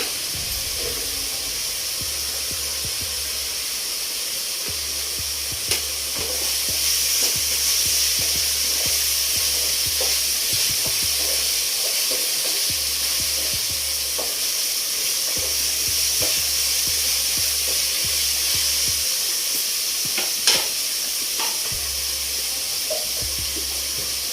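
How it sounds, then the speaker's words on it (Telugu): Green chillies fry in a pan of hot oil for a Telugu-style chicken curry, giving a steady, even sizzle throughout with occasional small pops and clinks, close and continuous with no talking. "పచ్చిమిర్చి వేసుకున్నామండి, అది వేగుతూ ఉంటుంది."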